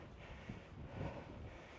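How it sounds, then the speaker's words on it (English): Strong wind of around 30 mph buffets the microphone on the summit of Meikle Bin in Scotland's Campsie Hills, a steady low rumble that swells briefly midway, with no voices. "It seems a bit windy to camp right up in the summit."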